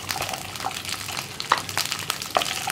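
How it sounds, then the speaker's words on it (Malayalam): Okra and onion sizzle steadily in hot coconut oil for a bhindi masala, with a dense continuous fry broken by a few sharper pops and stirring clinks, close and fairly loud with no talking. "ഈ വെളിച്ചെണ്ണ ഒന്ന് ചൂടായി തുടങ്ങുമ്പോൾ നമ്മൾ കട്ട് ചെയ്ത് വെച്ചിരിക്കുന്ന വെണ്ടയ്ക്ക, അതുപോലെ തന്നെ നമ്മുടെ ഉള്ളി,"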